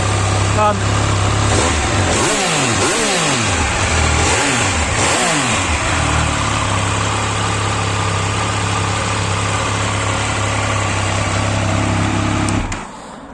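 A 2021 Triumph Speed Triple 1200 RS motorcycle engine idles with a steady throb, revving up and down several times in quick bursts before settling back to a rumbling idle and cutting off.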